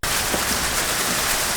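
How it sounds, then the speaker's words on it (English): Heavy hail pelts down outdoors in Marysville, Victoria, making a dense, steady hiss and patter that stays even and loud throughout the short stretch. "There's so much hail out there."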